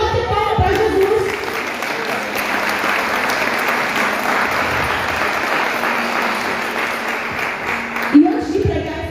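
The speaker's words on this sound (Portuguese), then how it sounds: "Pode bater palma para Jesus." A crowd at a church service claps steadily in loud, sustained applause filling the room, with a voice briefly audible at the start and a short accent near the end.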